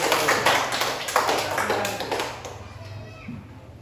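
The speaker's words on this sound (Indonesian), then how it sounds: "Tepuk tangan untuk kelompok yang terakhir" Applause for the last group after a classroom presentation: a burst of close, scattered hand claps for the first couple of seconds that then fades, with voices speaking over it.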